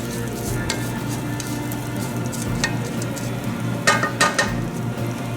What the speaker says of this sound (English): So you want to fry it till it's translucent.